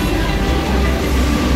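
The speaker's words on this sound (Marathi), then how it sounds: "आता आमची जी ट्रेन आहे ती अजंठा एक्सप्रेस आहे. ती आता उभी आहे." The Ajanta Express stands at a railway platform, a loud, steady low rumble of the train and engine with faint rail clatter, continuous and close, no voices.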